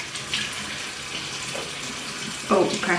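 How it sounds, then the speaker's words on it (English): Hot water running from a bathroom sink tap as a clean flannel is soaked, a steady close rush of flow that swells louder near the end, with no talk over it. "I get one of those and I soak it in like hot water."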